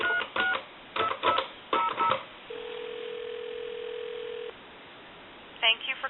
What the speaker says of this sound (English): Some dial tone.